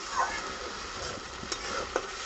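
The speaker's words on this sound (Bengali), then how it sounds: "এখন মশলা কষাইতেছি" Spice masala sizzles and is stirred in oil while a crab bhuna is cooked, a quiet, steady frying hiss with a few soft scraping accents and no talk.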